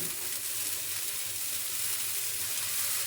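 Dosa batter sizzling on a hot tawa griddle, a steady, close frying hiss that holds evenly throughout with no voices.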